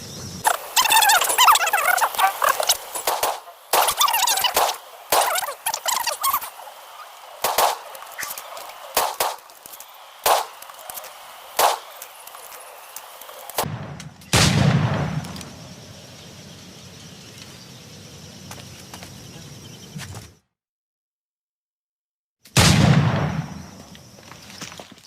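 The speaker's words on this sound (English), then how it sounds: "You've got my 2 best pairs of matched pistols, Duncan, so handle them with care. If I had 8, I'd treat each as my own son. Pull off a few shots if you like" Flintlock pistols crack in a quick volley of sharp shots, followed by a pause and then two more isolated booming reports with echoing tails, in a pirate-era setting.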